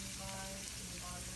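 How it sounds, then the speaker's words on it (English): Shrimp and crab egg rolls fry in hot oil with a steady, close, crackling sizzle that holds even throughout the short stretch, with no talking. "So as it's frying, which is getting very nice"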